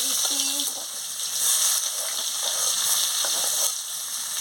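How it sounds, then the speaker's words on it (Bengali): Chopped onion goes into hot oil after pabda fish has been fried, a steady hiss and sizzle filling the pan, with a brief voice at the start and a few light clinks. "এবার তেল গরম হয়ে গেছে, আমি পেঁয়াজ কুচিটা দিয়ে দিচ্ছি।"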